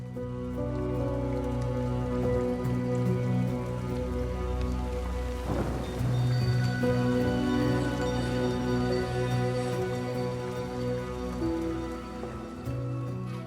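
Steady rain falls in a hilly village setting among terraced fields, a continuous wash of drops on surfaces mixed with a low rumble and some tonal background hum throughout, with no voices.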